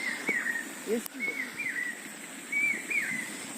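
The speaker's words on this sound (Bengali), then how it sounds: "এখনো এখানে পাখির ডাকটাও শোনা যায়।" Small birds chirp in repeated short bursts in Pearapur village, India, with a low dove-like coo mixed in, moderately near over quiet background.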